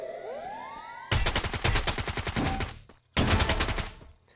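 Rapid automatic gunfire in the battle royale game Free Fire, two loud close bursts of dense repeating shots separated by a brief gap, following a quieter stretch with a rising electronic tone.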